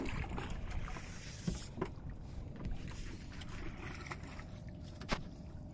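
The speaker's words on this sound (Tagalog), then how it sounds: "Ayan ang bangka namin." A boat sits on the water with sloshing and wind noise, and occasional knocks and thumps against the hull.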